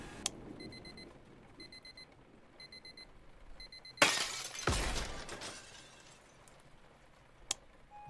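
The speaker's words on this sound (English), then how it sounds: "Annoying alarm clock out of reach it is." Alarm clock beeping in four short repeated bursts of electronic tones, then a sudden loud crash and clatter as of breaking glass, followed by fading rustles and a sharp click.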